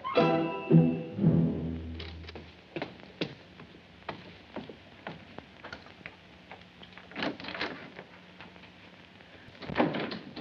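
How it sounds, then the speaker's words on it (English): An office door is pushed shut, giving a few sharp knocks and clicks spread through the stretch, fairly close, with a low steady tone at the start and no talking. "Close that door."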